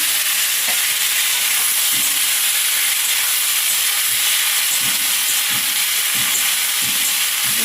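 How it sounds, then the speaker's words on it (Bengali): Cumin and chili tempering with dal stirred in a pan, a loud continuous hiss of steam and sizzle with soft scraping stirs recurring under it, no voices. "জিরে লঙ্কা ফোড়ন দিয়ে দিয়েছি, ডালটা নেড়ে নেবো"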